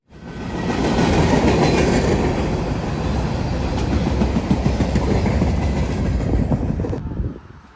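A train rolls past on the rails in a loud, sustained rush with rhythmic clatter from the wheels, building quickly and then cutting off near the end.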